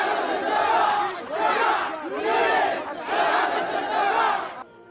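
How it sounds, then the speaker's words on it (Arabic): Large crowd of protesters at a Yemeni sit-in chanting slogans in loud rhythmic waves, massed voices rising and falling in repeated phrases, close and dense throughout. "بينما هتاف شباب التغيير منذ أكثر من 100 يوم هو"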